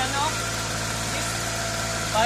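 A small 2-stroke engine running on biogas to generate electricity drones at a steady, close idle, with an even rumbling vibration throughout.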